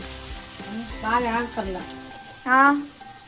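Green chillies sizzle and fry in hot oil in a pan for a home-style egg curry, a steady close crackle running beneath voices talking.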